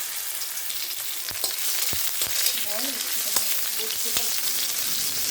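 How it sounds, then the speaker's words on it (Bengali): Cut papaya pieces frying in hot oil, added alongside fried lentils, give a steady close sizzle with sharp utensil clicks and scrapes breaking through now and then. "কেটে রাখা পেঁপেগুলো দিয়ে দিচ্ছি। তেল দিলাম, ভেজে নিচ্ছি।"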